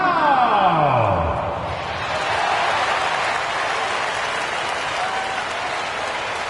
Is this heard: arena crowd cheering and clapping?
yes